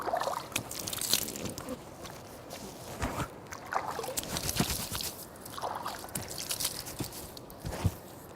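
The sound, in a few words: water splashing while washing face during wudu ablution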